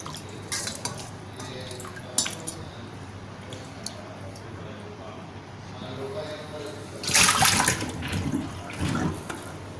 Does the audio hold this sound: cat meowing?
no